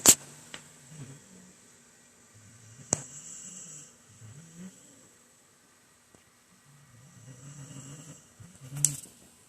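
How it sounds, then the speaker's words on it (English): A sleeping dog snores in slow, low, rasping breaths that rise and fade over several seconds, fairly quiet and close, with a couple of sharp clicks and a stretch of near-silence between snores. "But then she's snoring like super loud."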